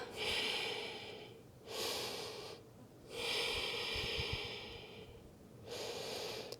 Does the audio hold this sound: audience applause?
no